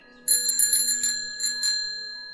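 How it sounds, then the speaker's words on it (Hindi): A bicycle bell rings in quick bright trills, a rapid run of dings, a short pause, then two more rings fading out. "घंटी की आवाज सुनते ही"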